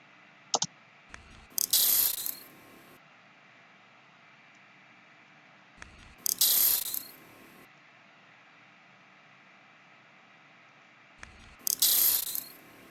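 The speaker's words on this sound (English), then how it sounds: "here's the Chandrila StarLines, what the injection would sound like." Homemade Star Wars hypospray injection sound effect: three evenly spaced cycles, each a short click followed by a bright, hissing mechanical burst, over a faint background hum, heard alone.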